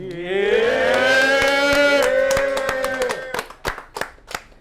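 A rising, siren-like whoop rings out over steady clapping and cheering from a rap battle crowd, then fades into a few scattered claps.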